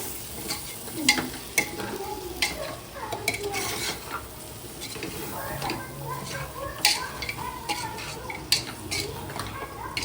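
Mutton curry stirred and mixed in a pan, a spoon scraping and clinking against the metal in uneven bursts over a steady low sizzle, close and fairly loud, with a faint voice now and then.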